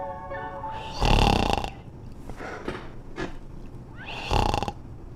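A person snores loudly nearby in two long rasping breaths, with quieter breathing and rustling between them.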